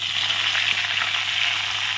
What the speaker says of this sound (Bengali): এখন ফোড়নটা ভেজে নেব।